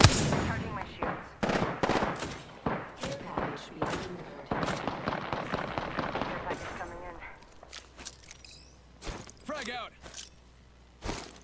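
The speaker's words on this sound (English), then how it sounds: "Getting shot at." Rapid gunfire bursts in the Apex Legends video game crackle loudly and repeatedly, overlapping with in-game voice callouts and fading to sparser shots toward the end.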